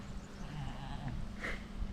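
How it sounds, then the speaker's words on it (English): A billy goat gives a short bleat at a lakeside cafe farm setting, faint and brief against quiet low background noise. "And here's the billy goat."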